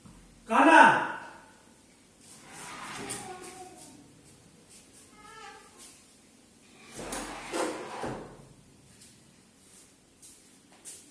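A door is shut with one sharp knock near the start of an indoor room recording, followed by faint shuffling and low voices.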